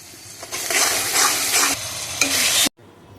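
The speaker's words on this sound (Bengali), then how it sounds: "এখন একটু কষিয়ে নিচ্ছি এটা ভালো করে" Onion and meat spices sizzle loudly in a pan while being stirred, with scraping strokes over the frying hiss before it stops abruptly.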